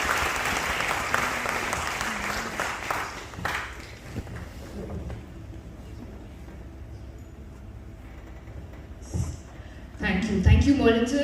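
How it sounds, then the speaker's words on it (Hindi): Audience applause for parents at a study-motivation workshop, a broad wash of clapping in the opening seconds that fades under a murmuring hall, with a brief louder burst near the end. "एक बार जोरदार तालियां अपने पेरेंट्स के लिए हो जाए"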